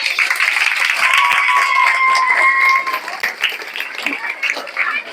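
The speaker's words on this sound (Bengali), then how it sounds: "সবাই হাততালি দিত নি।" Audience applauding at a school event, a dense burst of clapping from a large crowd of students and staff, loud and continuous before thinning out, with some voices mixed in.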